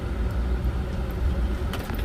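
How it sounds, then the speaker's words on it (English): Traffic on a main road rumbles steadily with a low engine drone, as trucks pass close by, with no voices. "All the trucks come this way."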